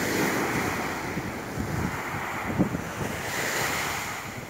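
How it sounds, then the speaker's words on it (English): Waves from a passing ship's wake wash onto a beach near a port, a broad steady rush of surf with rolling swells and some wind buffeting the microphone. "This is purely wake from a ship going into the port."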